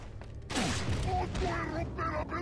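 A shotgun fires in Resident Evil 4 with one loud, close blast at about half a second, then the booming and clatter of the game follow.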